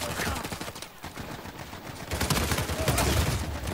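Rapid automatic gunfire in Uncharted 4 multiplayer, dense bursts of shots that thin briefly then return louder and more continuous through the second half.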